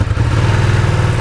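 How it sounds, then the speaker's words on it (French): A Ducati Streetfighter V2 motorcycle engine runs with a deep, steady, throbbing rumble, close and loud, holding an even idle-like beat throughout with no break or voices. "Voilà, donc le son hein, sur une moto Ducati, c'est toujours une des grandes forces de la marque."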